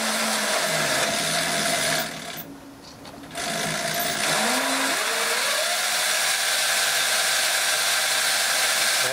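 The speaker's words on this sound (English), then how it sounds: "It's a 24 volt high powered DC motor. Give it a test." A 24-volt high-powered DC motor runs on a test bench from a power supply, whining loudly and close, dropping briefly before spinning back up as its pitch climbs and settles into a steady hum.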